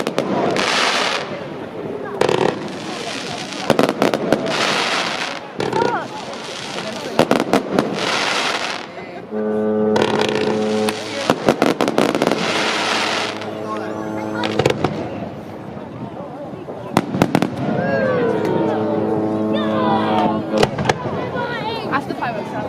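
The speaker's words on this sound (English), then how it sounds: "went to the fireworks at my local Harwich pier" Fireworks burst over Harwich pier at a New Year's display, a long run of booming explosions and crackling pops with a crowd murmuring and people talking throughout, whistling and screeching rockets rising in the middle and near the end.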